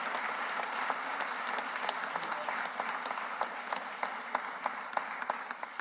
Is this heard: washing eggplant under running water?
no